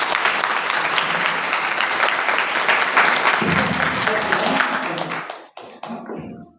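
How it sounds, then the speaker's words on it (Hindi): A church congregation at a Sunday fellowship meeting bursts into loud, sustained applause, many hands clapping together for about five seconds before it fades into a few scattered claps. "एक बार जोर से ताली बजाइए।"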